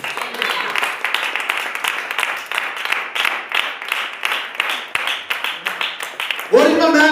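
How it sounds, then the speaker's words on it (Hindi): Audience clapping in rhythmic, steady bursts, loud and close, running throughout before a voice cuts in at the end. "क्या आप ताली दे सकते हैं?"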